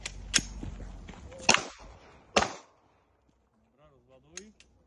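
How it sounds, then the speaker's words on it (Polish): Three sharp, loud pistol shots fired while moving at a tactical shooting range, spaced about a second apart, followed by a short quiet stretch with faint speech. "Strzelam."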